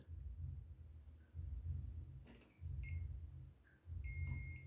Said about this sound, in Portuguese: estão ouvindo o bip?